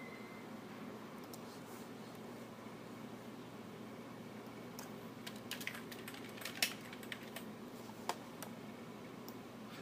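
Light keyboard typing while a file is renamed on a computer, a handful of quiet scattered keystrokes clustered in the second half over a steady hum of background noise.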